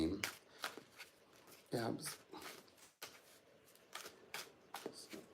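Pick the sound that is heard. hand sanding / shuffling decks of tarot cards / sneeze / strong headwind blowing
shuffling decks of tarot cards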